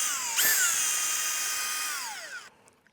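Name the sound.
power drill removing screws from gate hinges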